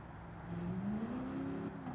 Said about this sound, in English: Stop revving! Why are you revving?